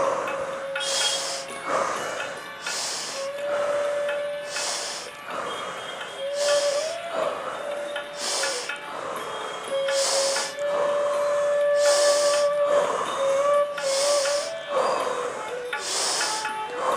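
Rapid, deep rhythmic breathing from a meditation exercise: about a dozen forceful breath bursts in a steady pulse, each loud and close, with a faint sustained tone running underneath.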